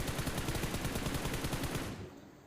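Sniper gunfire in the mobile game PUBG Mobile rattles as a rapid burst of sharp repeated shots for about two seconds, then cuts off into quiet.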